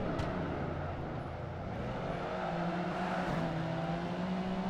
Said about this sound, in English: And lots of skidding and stuff.